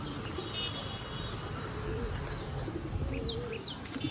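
Pigeons coo softly and chirp over a steady outdoor hum, with faint wing flutter as birds take off from a rooftop loft; no talking.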